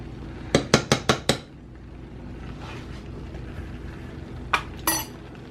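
A utensil clinks against a dish while crema is mixed into shrimp Alfredo ingredients: a quick run of five sharp taps, then a quieter stretch and two more clinks near the end.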